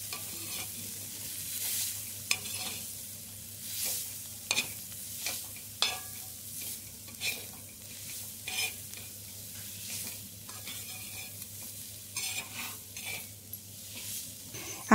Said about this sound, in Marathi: सगळं जे काय आहे ते अगोदरच लावून घ्यायचं भाजीला आणि नंतर परतून घ्यायची